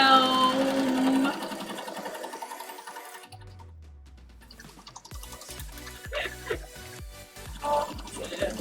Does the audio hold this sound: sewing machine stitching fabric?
yes